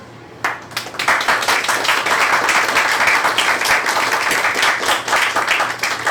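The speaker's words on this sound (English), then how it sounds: "So much clapping." An audience at a poetry reading in a New York City bar bursts into clapping after a brief quiet moment, then keeps up steady, dense applause of many hands at close range.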